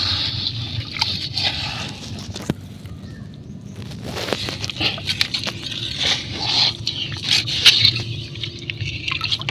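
A large mud crab shifts about with scraping, clicking and wet squishing sounds, close and moderately loud over a muddy, watery background, the scrapes coming in irregular bursts.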